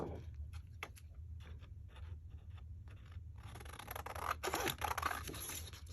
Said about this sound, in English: These are Tim Holtz scissors. And they have a really fat blade.